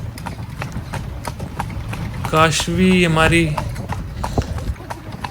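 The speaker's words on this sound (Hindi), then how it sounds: "और घोड़े पे हो गए हैं सवार" Horse hooves clip-clop steadily during a ride toward the Taj Mahal in Agra, the regular beats running under nearby talk from riders and the driver.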